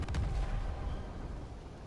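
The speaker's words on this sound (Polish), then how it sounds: "Kolejny wybuch." A booming explosion in the Spider-Man PS4 video game, a heavy low-end blast at the start followed by a rumbling decay that fades over a couple of seconds.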